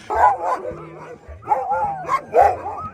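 Several sled dogs training for the Iditarod bark, yip and whimper up close in excited bursts, with a voice talking faintly underneath.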